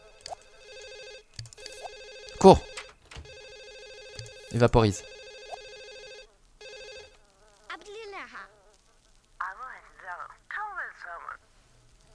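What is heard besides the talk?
telephone ringing in The Sims video game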